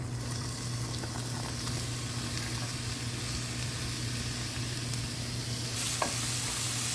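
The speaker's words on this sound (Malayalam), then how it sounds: "ഇനി സവോളയൊക്കെ ഒന്ന് ബ്രൗൺ കളറാവുന്നത് വരെ നമുക്കിതൊന്ന് വഴറ്റിയെടുക്കാം." Sliced onions, green chili, ginger and curry leaves sauté in coconut oil for a Kerala vegetable stew, giving a soft continuous sizzle with stirring, fairly quiet and close, no talking.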